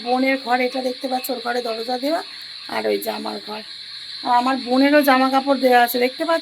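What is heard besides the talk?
crickets chirping at night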